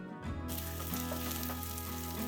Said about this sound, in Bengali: এটাকে আবার ভালো করে ভাজতে হবে